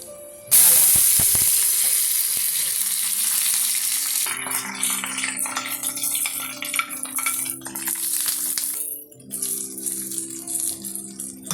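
Mustard seeds, cumin and urad dal hit hot oil with a sudden loud, close sizzle that crackles steadily, followed by spoon clinks and stirring scrapes against the pan.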